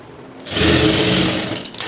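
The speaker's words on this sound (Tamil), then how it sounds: "இழுக்காமல் அப்படியே பொறுமையாக வச்சு தையல் போட்டு வந்துருங்க" Sewing machine stitching the lining of a blouse, its motor starting after a brief quiet moment into a steady close whirring run that stutters near the end.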